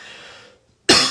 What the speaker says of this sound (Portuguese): ainda estou com uma tosse ainda aí